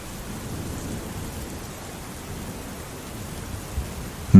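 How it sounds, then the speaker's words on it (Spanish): Heavy rain pours steadily over dry Kalahari ground as a low thunder rumble rolls underneath, a soft even wash of noise with a sharp crack at the very end. "Se escuchó un trueno. Y entonces la lluvia cayó a cántaros."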